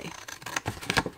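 Scissors snipping paper for a handmade triangular treat box, a run of short crisp cuts close up, fairly quiet, with no talking.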